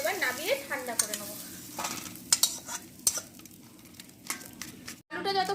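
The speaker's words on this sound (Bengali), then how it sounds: "একটু সময় নিয়ে এটাকে খুব ভালো করে এরকম করে ম্যাশ করে করে কষে নিতে হবে।" Mashed potato filling for vada pav being stirred and pressed in a hot pan, close scraping and squishing strokes over a soft sizzle, with a voice talking over part of it.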